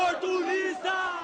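A protest crowd at street clashes in Belo Horizonte, Brazil, shouts together in a loud, sustained roar of many voices, rising and falling in short waves.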